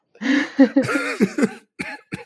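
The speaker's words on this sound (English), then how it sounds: "it's really bad timing to to get a cough." A series of harsh, close coughs in quick bursts, followed by a couple of shorter coughs after brief pauses.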